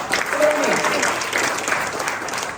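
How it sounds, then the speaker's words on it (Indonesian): A church congregation at an Easter service breaks into warm applause, dense clapping throughout with voices mixed in. "Berikan tepuk tangan bagi kita."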